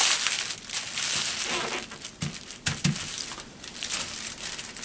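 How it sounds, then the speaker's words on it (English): Sheet of aluminum foil being folded in half lengthwise, steady close crinkling and crushing rustle with a few sharper creases and crackles midway. "then you fold it in half the long way"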